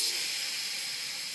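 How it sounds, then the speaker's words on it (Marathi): A pressure cooker holding green chickpea leaves lets off steam in a steady, close, bright hiss that holds evenly for over a second, with no one talking. "झाले बघा कुकरच्या 4 शिट्ट्या।"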